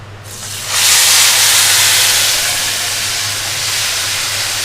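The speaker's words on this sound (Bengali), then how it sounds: "এবার তেলে দিয়ে দেব আমি বেটে রাখা মশলাটা" Ground spice paste drops into hot oil and bursts into a loud, close hiss that settles into a sustained sizzle, with no voices.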